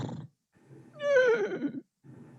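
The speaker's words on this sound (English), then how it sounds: "I can hear a horse." A horse whinnies once in a descending, tonal call lasting under a second, clear and fairly close, with quieter low rumbling noise before and after.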